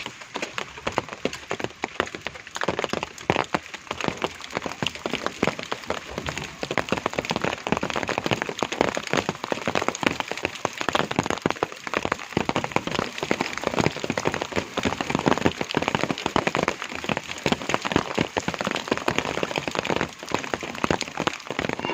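Steady heavy rain patters and crackles on a surface, dense and continuous throughout with no voices.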